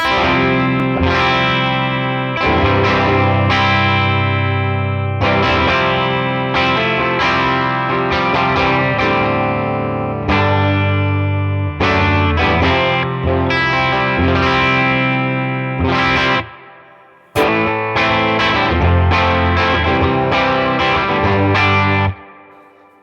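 Electric guitar through a Tone King Imperial amp plugin with a 121 ribbon mic placed dead center, playing chordal riffs with overdrive and chorus-like shimmer, loud and continuous with a brief pause near the end.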